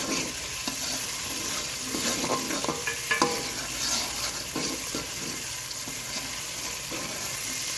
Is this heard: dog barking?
no